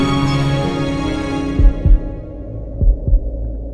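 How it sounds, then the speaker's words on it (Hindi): Heartbeat sound effect in a Hindi film: two pairs of deep, thudding double beats under a low sustained musical hum, loud and close, with no talking. "मेरे दिल की धड़कन बढ़ जाती है।"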